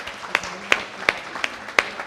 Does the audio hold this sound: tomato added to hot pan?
no